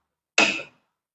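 Sharp click of a motor starter contactor pulling in as a water pump switches on, a single close transient decaying in about a third of a second, alone in silence.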